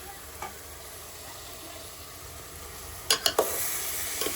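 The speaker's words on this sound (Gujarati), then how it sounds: "અત્યારમાં આપણે ફુલાવરનું શાક પણ મૂકી દીધું છે" Cauliflower curry sizzling in hot oil in a pan, a steady close frying hiss with a few sharp clattering stirs near the end.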